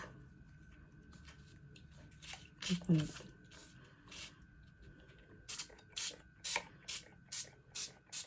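Distress Spray Stain in Vintage Photo is pumped onto a craft surface for a faux-leather effect, a run of about eight short, close hissing spritzes in a regular rhythm, following a brief handling noise.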